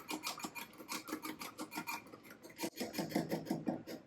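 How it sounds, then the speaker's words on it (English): A whisk beating salad dressing for a watermelon and feta salad, rapid rhythmic scratchy strokes against a bowl, close and steady, a brief pause midway, then faster strokes, no speech. "now we're going to whisk this together"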